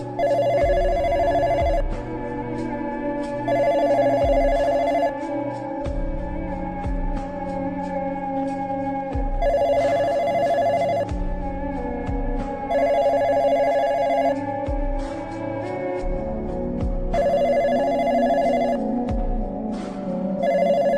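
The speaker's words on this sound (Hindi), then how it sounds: "ये बंद कर दो इस फोन को" A telephone rings again and again with unwanted calls, a loud repeating ring in regular bursts with short pauses between them, alone with no talk.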